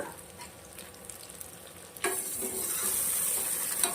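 Chopped ridge gourd frying in oil with onion, garlic, mustard seeds and curry leaves for sambar, a steady close sizzle that turns into a louder, brighter hiss partway through, with light stirring and no voices.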